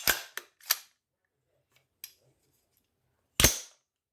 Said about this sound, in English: I can drop that bolt